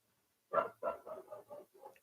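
A dog barks at someone walking past, a quick run of five or six yapping barks in close succession, fairly clear and a little distant, with no talk.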